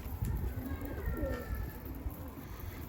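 Low, soft cooing from Dolapçı pigeons in a coop murmurs steadily through the clip, close by, with a faint rustling background and no talking.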